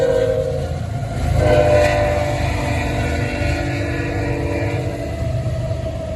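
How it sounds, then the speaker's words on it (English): A heavy freight train out of the Long Beach container yard rumbles past nearby, steady and loud, with a droning horn blast and metallic rolling noise throughout. "I'm trying to catch this train."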